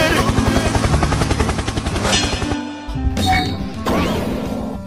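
A helicopter superpower effect from the BoBoiBoy Galaxy video game gives a loud, dense, rhythmic rotor-like whirring with crashing, thudding bursts, steady for about two seconds and then breaking into shorter, choppier blasts.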